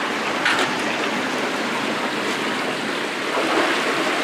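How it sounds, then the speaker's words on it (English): Water rushes through a sewer pipe after a rag blockage is cleared, giving a continuous, loud, close hiss and churn that stays fairly even throughout. "See that rush of water?"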